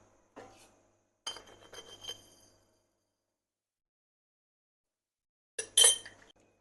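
Spoon clinking against a pot or glass while sugar is added to rava payasam: a few light metallic taps and scrapes in two short bursts separated by quiet.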